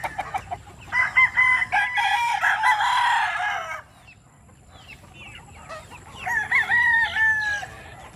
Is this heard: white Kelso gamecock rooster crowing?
yes